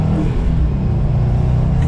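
A stock 2021 Subaru WRX STI accelerates hard, its engine and exhaust note a loud, close, rising rumble that continues without pause.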